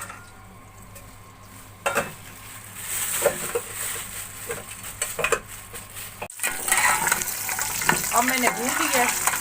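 Mutton trotters frying in about a cup of hot cooking oil in a pot, with a steady soft sizzle, metal clinks and stirring scrapes over a kitchen background.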